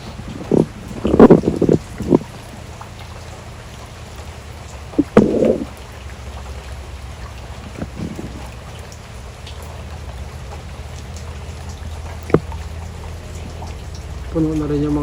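Heavy rain falls in Siargao as a constant, dense hiss that fills the scene, with a few brief louder bursts of nearby voices or movement breaking through.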